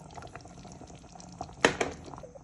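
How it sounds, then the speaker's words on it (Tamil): Coconut milk pours into a bubbling karuvadu and raw banana kulambu, with soft liquid splashing and gentle simmering, then a brief louder splash and a smaller one. "இப்போ இந்த நேரம் தேங்காய் பாலையும் விடுகிறேன்"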